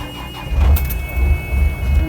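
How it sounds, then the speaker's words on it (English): An engine cranks and starts in a train video game, with low rhythmic chugging pulses building in loudness over a couple of seconds, close and without talk. "Engine on."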